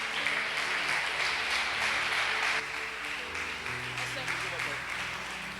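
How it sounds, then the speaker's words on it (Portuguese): Church congregation applauding during a service, continuous broad clapping under a sustained tone from music or voices, moderately loud and steady throughout. "Aplauda Jesus."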